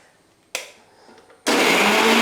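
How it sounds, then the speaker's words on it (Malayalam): A mixer grinder blends coconut paste with water for Kerala-style erissery, a loud steady whirring burst near the end after a brief softer start. "ഇത് ഞാനിനി മിക്സിയിലോട്ടിട്ട് അരയ്ക്കണം"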